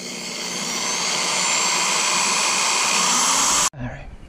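A power drill with a 1/16-inch bit bores a hole on a school bus conversion, giving a loud, steady high whine that runs for several seconds and then cuts off abruptly.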